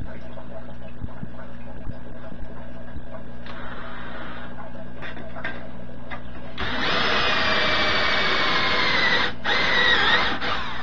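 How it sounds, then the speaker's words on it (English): Half-inch drill bit boring through material in a DIY workshop, a loud steady grinding whir starting partway in after quieter handling noise, with a brief dip before it resumes. "A half inch drill bit."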